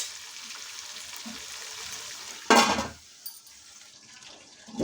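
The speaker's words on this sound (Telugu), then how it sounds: "ఆనియన్స్ కొద్దిగా మంచిగా వేగాలండి" Onions frying in a pan for vegetable biryani, a steady soft sizzle throughout with a brief louder burst of crackling midway, then a quieter hiss.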